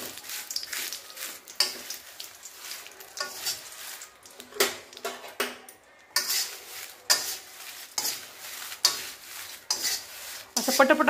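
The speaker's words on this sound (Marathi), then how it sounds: "असं पटपट खालीवर करत राहायचं, दोन्ही बाजून 2 चमचे घेऊन, म्हणजे तेजपान पटपट भाजलं जातं।" Pieces of bay leaf being roasted in a little oil and turned quickly with two spoons, giving a soft crackling sizzle broken by a rhythmic series of sharp scraping clinks from the metal spoons.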